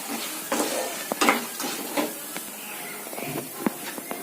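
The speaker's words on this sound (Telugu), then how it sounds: "మీడియం ఫ్లేమ్లో పెట్టి వేయించుకోవాలి." Ingredients for temple-style pulihora frying on a medium flame, a close, even sizzle broken by irregular spatula scrapes and taps against the pan.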